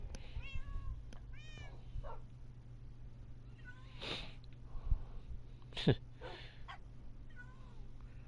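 A cat in Minecraft Bedrock Edition gives a few quick, fairly close meows near the start, followed by softer scattered sounds and occasional thumps over a quiet background.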